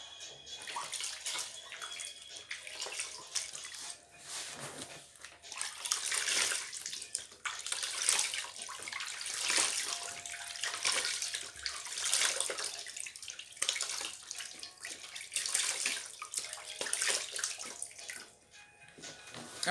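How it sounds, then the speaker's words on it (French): Running tap water splashing while a face is washed, a continuous close stream with surging and slapping swells as hands move through the flow, no talking. "Je vais laver mon visage."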